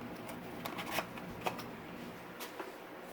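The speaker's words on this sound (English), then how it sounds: "Rip it out of the box here since I taped it in." A new KTM oil filter is ripped out of a taped cardboard box, with quick rustling tears and a few sharp crackling snaps close up.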